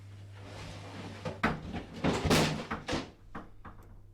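A door swings open with a creaking, scraping movement, followed by a few knocks and thuds as something falls out, fairly close and moderately loud, with a low steady hum underneath.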